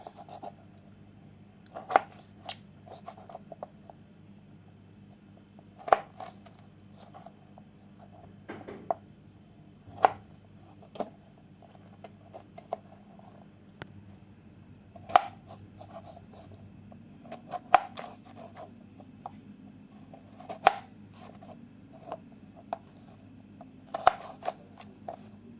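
A knife slices potatoes for French fries in a series of sharp, scattered cutting clicks, close and fairly quiet over a low steady background hum, with irregular gaps between strokes.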